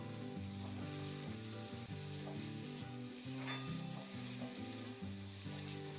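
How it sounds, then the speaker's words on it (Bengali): Thinly cut potatoes sizzle steadily in a pan while being stirred, a continuous close frying hiss with scraping stir sounds, no talking. "আলুটা দিয়ে আমি দু তিন মিনিট নাড়াচাড়া করে হালকা করে একটু ভেজে নিচ্ছি"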